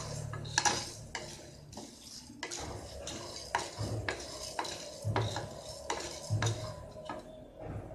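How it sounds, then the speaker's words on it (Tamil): Chana dal dry-roasting in a pan, stirred with a metal spoon that scrapes and clinks against the pan in a steady irregular rhythm, close and moderately loud, with no talking. "நம்ம அந்த கடலைப்பருப்போட வாசம் வர்ற அளவுக்கு நல்லா வறுத்துக்கலாம்"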